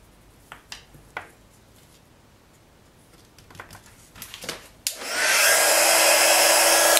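An electric heat tool melts white embossing powder on a black card stamped with Versamark ink. A few light taps and clicks come first, then the tool switches on with a loud, steady, close-up blowing whoosh.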